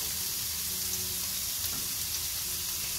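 Chopped onion frying in a hot pan as the base for Filipino spaghetti, a steady close sizzle and crackle running unbroken and alone throughout.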